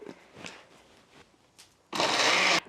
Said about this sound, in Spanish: Ahora voy a moler la salsa del chile en vinagre.